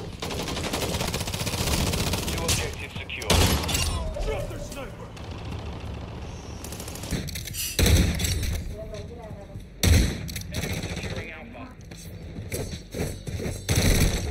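Rapid automatic gunfire and bursts from Call of Duty: Warzone Mobile played on a Xiaomi Pad 6, loud and dense throughout, with heavier shots punctuating the fight and a voice mixed in.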